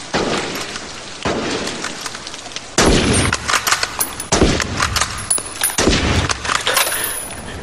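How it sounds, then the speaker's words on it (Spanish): Gunshots ring out inside a bunker in a film scene, a burst of sharp, loud reports in irregular clusters with glassy, metallic clangs and breaking debris between them, no talk. "¿Qué demonios haces? ¿A quién le disparas?"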